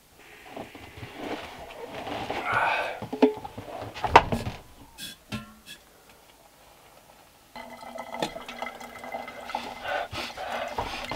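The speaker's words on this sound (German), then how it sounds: "Und nun füll nur noch das heiße Wasser." Hot water being poured over ground coffee in a folded paper filter inside a motorhome or caravan: close, uneven splashing and gurgling, a brief lull, then a steadier trickle.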